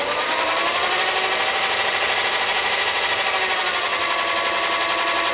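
Logan 210 metal lathe running on fine feed while cutting metric threads, a steady continuous machine whir and whine with faint tonal hum, close and even throughout with no speech.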